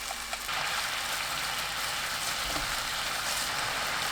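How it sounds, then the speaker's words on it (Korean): Seasoning sauce bubbling in a pan over high heat after garlic has been sautéed in oil, a steady hissing sizzle that runs on evenly without speech. "양념 넣고 센 불로 끓여주세요"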